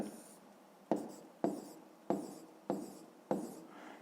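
A pen scratches out a math solution in a notebook, with about five short, crisp strokes at fairly even intervals, each starting sharply and trailing off, quiet and close with no talk.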